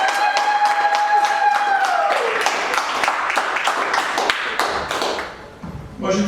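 Wedding guests clap together in a close, loud burst of sharp rhythmic hand claps, with a sustained tone fading early and voices mixed in underneath.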